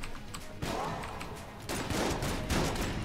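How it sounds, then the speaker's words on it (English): Dense gunfire fills the Enter the Gungeon video game as a cannon-wielding boss sprays bullets, a loud, continuous barrage of overlapping shots that surges again partway through. "That's a lot of bullets you're firing at me, big guy."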